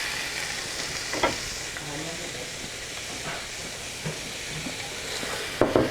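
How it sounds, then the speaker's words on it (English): Diced onion sautés in olive oil in a sauté pan, a soft steady sizzle and hiss with occasional stirring scrapes and light clinks, no talk. "So in a saute pan, we're going to take a little bit of olive oil, and we're just going to really quick saute an onion."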